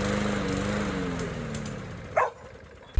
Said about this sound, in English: how to fix your lawnmower engine if it can start, runs a little bit, and then dies off,